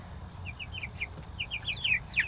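A flock of chickens clucks and chirps in quick, repeated calls at close range, a steady chorus with a low background murmur.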